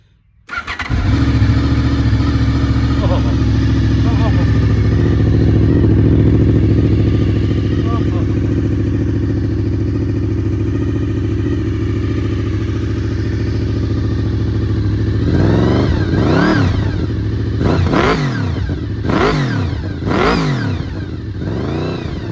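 A 2000 Honda VFR800 Interceptor motorcycle engine starts and idles with a steady, loud exhaust note, then near the end revs up several times in quick, rising blips.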